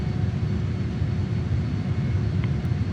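Steady drone of a JAS-39 Gripen jet engine in Microsoft Flight Simulator, flying over Bathurst, New South Wales, a constant low roar with a faint high whine on top.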